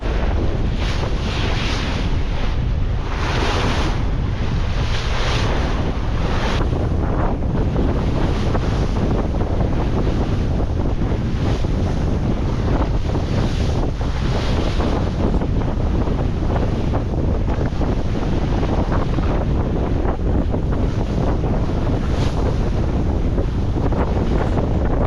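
Heavy wind buffets the microphone while waves rush and splash steadily against a sailboat under full sail, a continuous roaring wash with no voices.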